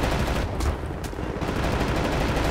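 Dense, sustained gunfire in the World War II shooter Wolfenstein: The New Order, a loud burst of rapid shots and machine-gun fire running continuously with no talking over it.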